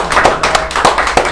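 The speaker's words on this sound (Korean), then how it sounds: "새로운 회원 확보 방법을 이렇게 연구한 진 이사님한테 박수 좀" Scattered hand claps from a small group at a meeting, a handful of sharp, uneven claps close to the microphone over little more than a second, with no talk.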